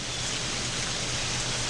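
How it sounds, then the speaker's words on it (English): Steady rain falling outdoors in rural Alabama after a long dry fall, a dense even hiss of drops filling the air at constant loudness with no voices. "finally, the rain has blessed us here at Deep South Bama"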